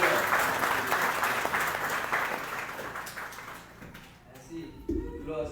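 A church congregation applauds during a worship service, steady sustained clapping from many hands that thins out toward the end, with voices mixed in.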